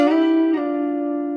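A sustained electric guitar note slides up a minor third into a higher held pitch about midway, ringing steadily alone with no talking.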